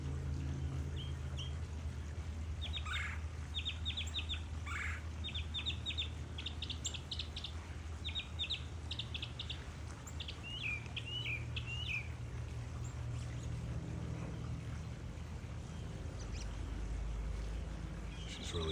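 Red-bellied woodpeckers call at their nest on a morning, with short bursts of sharp chirping notes repeated in clusters over a steady low background rumble, fairly faint.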